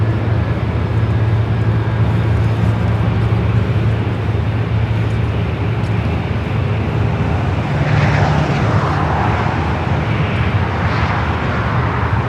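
China Eastern airliner at LAX, a loud continuous jet engine roar that holds steady and swells slightly near the end, with no voices over it.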